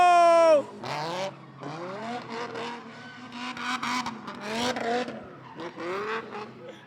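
At Monadnock Speedway, a Subaru and a Renault race into a corner with a sharp high tire squeal at the start, then engines rev and roar as the cars drift, revving up and down under excited commentary.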